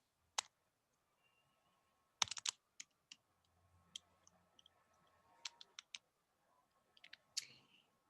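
Sparse keystrokes on a computer keyboard, a few isolated taps and short clustered bursts with pauses between, quiet and close in an otherwise silent room.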